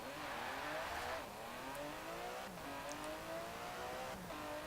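A 2018 Aston Martin Vantage in Forza Horizon 4 accelerates hard, its engine note rising steadily through the gears with brief drops at each shift, a continuous loud drone with no talking.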